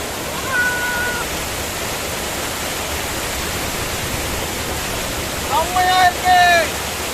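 Water pours down a waterfall near Tindivanam with a loud, steady rushing roar that fills the whole stretch, and a few faint high cries break through it briefly near the start and toward the end.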